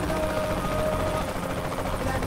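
Helicopter in the video game Saints Row: The Third, a loud continuous rotor drone with a faint whine running steadily throughout.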